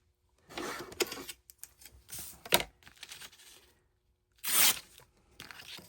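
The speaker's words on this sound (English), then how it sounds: "I'm going to tear it because I want to" A paper tag is torn by hand for a bookmark in a series of close, crisp ripping bursts with short pauses between them.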